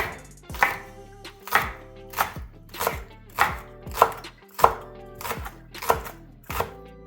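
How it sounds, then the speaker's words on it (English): Green onions being chopped into very small slices with a knife on a cutting board, about ten crisp, evenly spaced chops, close and clear with no talk. "So we start with the green onion, wash it, and we'll cut them into very small garnished slices."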